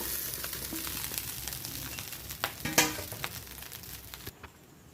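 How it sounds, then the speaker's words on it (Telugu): Cooled cooked rice stirred into a sizzling curry leaf mixture in a hot pan: steady frying hiss broken by a run of scraping, clattering stirs that fade out toward the end. "ఇదంతా అందులో వేసుకొని బాగా కలుపుకోవాలండి"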